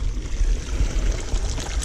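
A jungle stream flows along a rough forest track, a close, continuous burbling rush of water with a low rumble, heard alone for a couple of seconds.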